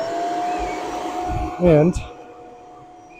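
A Shark Vertex Duo Clean vacuum runs with both brushrolls spinning, a steady motor whine under a short spoken word, with a brief louder surge in the middle before settling back.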